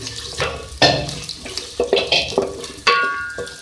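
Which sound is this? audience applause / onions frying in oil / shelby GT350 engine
onions frying in oil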